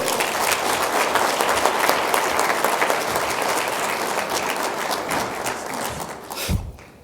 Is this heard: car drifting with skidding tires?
no